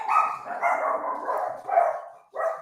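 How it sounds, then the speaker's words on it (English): Dogs barking close by in a run of overlapping loud barks and yips, a short pause, then another bark, with no talking. "My dogs are barking."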